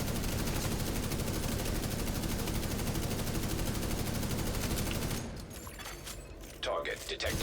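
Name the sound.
support gunner firing machine gun in a video game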